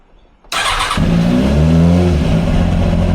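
A Kawasaki motorcycle engine cranks and fires after a moment of quiet, catching at once into a loud, steady idle that stays up close and continuous to the end.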